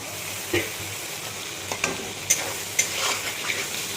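Salt, turmeric, cumin and chili powder with ginger paste sizzle as water is added to a hot pan for a light fish curry, a low steady hiss broken by a few sharp spits and clicks of stirring.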